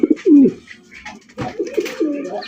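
Several fancy and racer pigeons coo in short throaty phrases, close and clear, with soft rustling between the calls.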